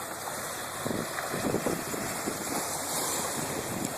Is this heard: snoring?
no